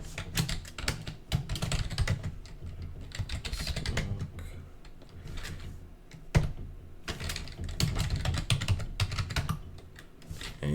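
Continuous typing on a computer keyboard while entering a password during a software install, rapid clustered keystrokes close to the mic with brief pauses, no talk.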